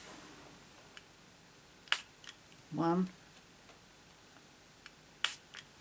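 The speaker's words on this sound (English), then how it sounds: "So I'm going to spray once on the front, once on the back." A hand spray bottle spritzing water onto a handmade card fires two short, sharp hissing puffs a few seconds apart, one on each side, close and quiet, with a soft voice counting in between.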